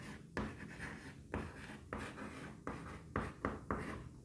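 Pen or marker strokes scratch across a board or paper while an algebraic expression is written out, a series of short rhythmic scrapes separated by brief pauses, close and fairly quiet.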